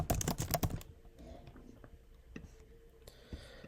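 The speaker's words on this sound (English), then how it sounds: "So I'm going to type in my name." Someone types a name on a computer keyboard: a fast, close run of crisp key clicks, then a few sparse, quieter taps in a hushed room.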